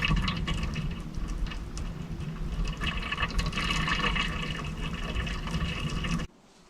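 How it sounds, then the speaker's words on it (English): Water circulates through a heated coil system inside an ammo can in a snowy cabin setting, a steady bubbling, gurgling flow that runs continuously and then cuts off sharply near the end. "The good news is that the water continued to circulate anyway"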